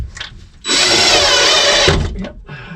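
A power screwdriver drives a screw close beside a boat motor, one loud whirring burst of about a second with quieter handling noise before and after.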